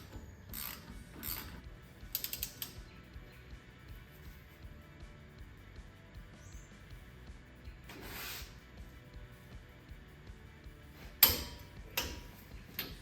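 A ratchet wrench tightens a nut during a BDS 3-inch lift kit install with Fox Elite shocks on a Ford F150. Several short bursts of close, crisp clicking are separated by quiet pauses.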